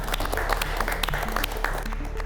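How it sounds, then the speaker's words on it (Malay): Continuous applause from a crowd, steady and fairly loud, with a sustained musical tone underneath, at a cooking competition. "kita berikan tepukan paling gemuruh untuk Nasrul"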